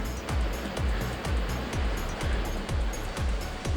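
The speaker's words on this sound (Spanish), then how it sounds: "Aquí podemos observar cómo brota el agua de la montaña" Mountain spring water gushing at the Sibaté waterfall nature reserve in Cundinamarca: a steady, loud broadband rush with regular low thumps pulsing beneath it roughly every half second.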